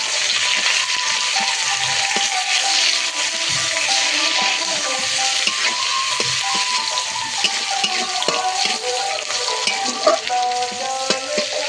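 Chopped onion fries in hot oil in a pan with dried red chilli, bay leaf and panch phoron, a steady loud sizzle with scraping stirs throughout and no talking.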